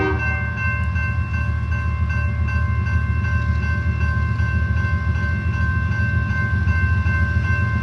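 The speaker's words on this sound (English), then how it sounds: "Here is the train I was talking to you about" A train rolls steadily past a railroad crossing in Plymouth, Michigan, loud and close, with a constant rumble and sustained tonal ringing or horn-like hum throughout, no voices.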